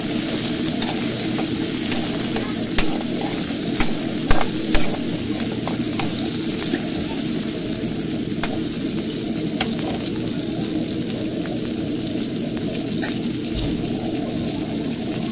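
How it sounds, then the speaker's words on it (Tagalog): Onion and garlic sautéing in a pan for pork tinola, a dense steady sizzle with scattered stirring clicks and taps over about fifteen seconds, no talking. "Then lalagyan na rin natin ng sibuyas at bawang. Mix natin."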